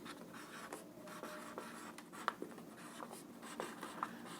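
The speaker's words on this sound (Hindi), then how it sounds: "तो एटॉमिक नंबर लिख लेते हैं हम" Chalk or marker writing out an atomic number on a classroom board, soft scratchy strokes and small taps, faint and close with no talking.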